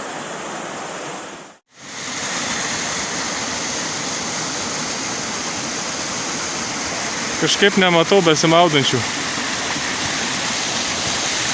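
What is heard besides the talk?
river water flowing at hot springs in Greece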